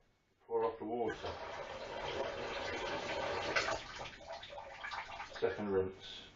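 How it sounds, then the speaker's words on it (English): Water is poured off rinsed rice in a pot, a continuous splashing, gurgling stream lasting several seconds, close and moderately loud, with a brief voice at the start and again near the end. "Pour off the water."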